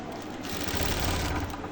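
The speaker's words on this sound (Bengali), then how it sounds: "দুইটা জোড়ায় মিলে প্রথমে একটা সাইড সেলাই করতে হবে" Sewing machine stitching the side seam of a kameez, a fast steady whirring rattle running continuously, close and alone.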